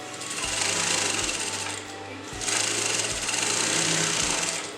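A sewing machine stitches a kurta neckline in fast mechanical bursts, whirring loudly for about two seconds, pausing briefly, then running again close up with no voices.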